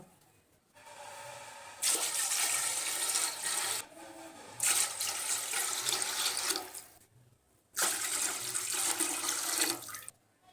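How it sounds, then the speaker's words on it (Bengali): Coconut milk poured into a cooking pot for a green pea pulao, a liquid splashing and streaming in two long bursts with a short break between, close and fairly loud, no talking. "এখানে আমি 4 মগ দুধ অ্যাড করব 1 কেজি চালের জন্য"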